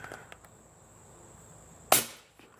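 A Hornady Subsonic 300 Blackout round fired through a chronograph from a few yards away, one sharp, fairly muted shot cracking out once near the end of an otherwise quiet stretch.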